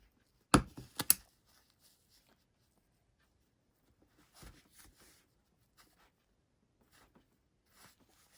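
Scissors snip off the corners of a fabric plush doll, a couple of quick sharp cuts close up, then faint scattered clicks and handling noises in a quiet room.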